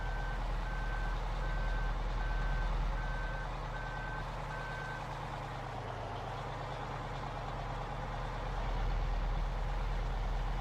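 Truck reversing alarm in Farming Simulator 15, a steady repeating beep through roughly the first half, over a constant low engine idle that continues alone afterward.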